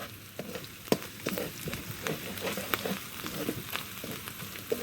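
Tiger prawns fry in a pan with onion, garlic and ginger paste, a steady close sizzle broken by a few sharp pops and the scrape of stirring.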